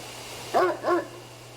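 A dog in a horror adventure video game gives two sharp, close barks in quick succession, standing out clearly over a quiet, steady low hum.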